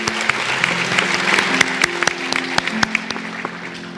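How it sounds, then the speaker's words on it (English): Audience applause at a school academic awards ceremony honoring Grand Oaks Elementary students: dense, steady clapping from a crowd, with sharp individual claps standing out and faint music tones running underneath. "One more applause for our students from Grand Oaks Elementary."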